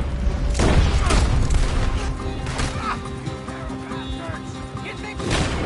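Gunfire in a video game shootout, heavy shots and crashes near the start and end with a dense noisy mix between.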